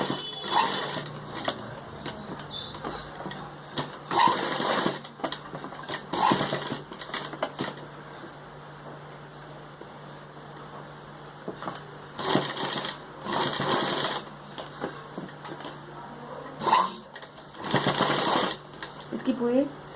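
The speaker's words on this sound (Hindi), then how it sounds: "और सिलाई लगा रही हूँ।" A sewing machine stitches a neck patch onto a suit, running in repeated close bursts of steady mechanical whirring separated by pauses, with someone talking in between.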